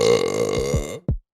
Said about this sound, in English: Some people call it a burp.